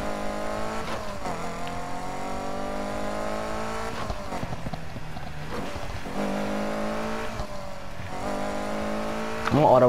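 A car in the Need for Speed Heat video game revs through repeated rising engine sweeps with shifts between them, and tires squeal briefly near the end, while someone talks over the engine.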